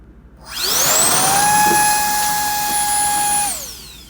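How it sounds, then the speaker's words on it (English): A VortexHaus Turbo Jet DB V3 cordless blower on a DeWalt battery spins up to a loud, piercing high-pitched whine like a tiny jet, holds steady for about three seconds close by, then winds down. "It's loud, high-pitched, almost like a dentist drill crossed with a tiny jet engine."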